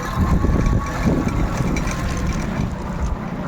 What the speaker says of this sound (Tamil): ஏரிக்குள்ளே வண்டி ஓட்டிகிட்டு போய் நம்ம ஸ்பாட்டுக்கு போயிட்டுருக்கோம்